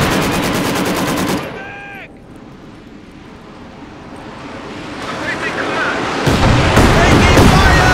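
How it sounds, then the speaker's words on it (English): Gunfire and battle noise from Company of Heroes 2, loud bursts of machine-gun fire crackling at the start, dropping to a quieter wind-like wash before heavy combat noise swells again near the end. "Taking fire! Enemy contact!"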